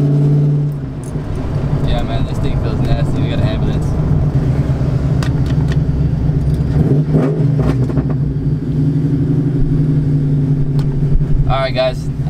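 A nitrous Ford Mustang's engine drones loudly from inside the car as it rolls through the gears, a steady rumble with shifts in pitch, while someone talks over it.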